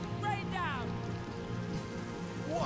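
A rain spell in Divinity: Original Sin pours down as a steady, dense hiss of falling water, with brief bright magical chimes and a voice speaking faintly beneath.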